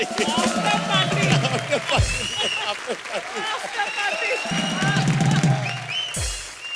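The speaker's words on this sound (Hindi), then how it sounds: "जोरदार तालियां" Energetic applause from a comedy show studio audience during a Diwali episode, with voices and music mixed in, swelling and fading in bursts.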